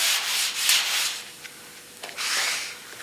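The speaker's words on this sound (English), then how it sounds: "it's actually a two-hand sand job. And I'm using 180 grit sandpaper dry" Hand sanding with 180 grit sandpaper, dry, across the contoured roof panel of a 1962 Ford Galaxie body, producing loud, close, rhythmic rasping strokes with a brief pause between passes.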